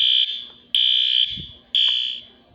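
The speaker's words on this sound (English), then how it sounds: "The fire alarm is off." A building fire alarm being tested sounds three long, loud electronic tones, each dropping away before the next begins, with no talk over it.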